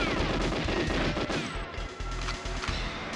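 Rapid, dense gunfire rattles through the Frigate level of the video game GoldenEye, a loud, continuous burst of shots with harsh crackling that eases slightly partway through before carrying on.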